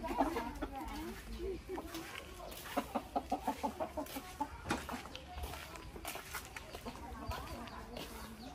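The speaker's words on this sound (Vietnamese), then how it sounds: "Gà trọi đây." A fighting rooster clucks in a rapid run of short, pulsing calls, close and clear, while people talk nearby in the background of a rural farmyard.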